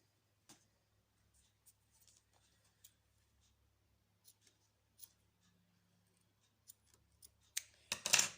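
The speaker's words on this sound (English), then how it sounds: "I'm going to trim and seal the excess from these two cords" Excess macrame cords on a bracelet are trimmed with scissors: a few faint, sparse snips and small handling ticks in near silence, followed by louder rustling at the end.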